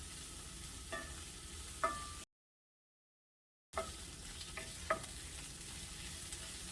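Yucca flowers cook in a pan with a soft, steady sizzle and a few sharp stirring clicks. The sound drops to complete silence for about a second partway through, then the frying resumes.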